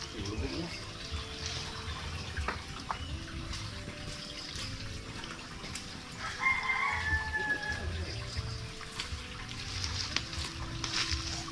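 Brahman chickens clucking and crowing in a backyard, steady overlapping bird calls with a brief louder burst midway, alongside background murmur and faint running water.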